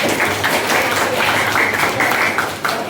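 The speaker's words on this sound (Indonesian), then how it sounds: "tepuk tangan dong" Classroom applause from students, a short burst of brisk, fairly loud clapping that holds steady throughout.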